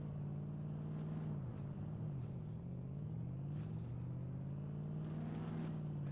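Engine of a Ford Raptor pickup in the DayZ video game, a steady low drone with shifting pitch as the big truck drives and manoeuvres, loud and continuous with no voices.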